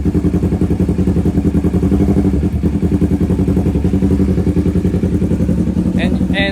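A Honda CB650R motorcycle exhaust throbs close by in a steady, rhythmic engine pulse at low revs, with a few brief higher chirps near the end.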